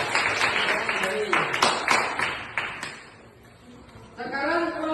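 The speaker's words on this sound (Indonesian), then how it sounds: "Tepuk tangan untuk kelompok 2." A primary school class applauding a student group, with a burst of clapping that fades out, followed by a teacher speaking.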